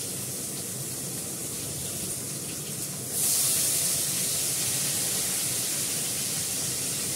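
A potato drops into hot oil with onion paste, and a steady background hiss jumps into a loud, bright sizzle about three seconds in, then keeps spitting evenly up close without any talk.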